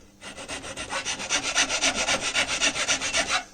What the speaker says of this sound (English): I've just got a file. It's just a matter of painstakingly working my way around